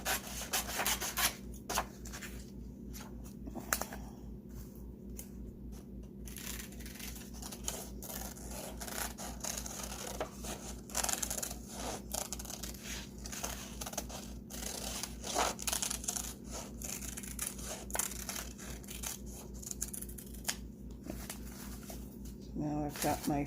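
Scissors snip and rub through paper while cutting out a rabbit-feet shape, a soft, continuous close-up rasping over a steady background hum. A person talks intermittently over it.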